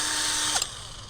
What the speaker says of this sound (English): And lots of drilling